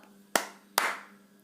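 Two sharp single hand claps, spaced a little under half a second apart, each ringing briefly in a quiet room during a children's English rhyming-words activity, with no voices over them.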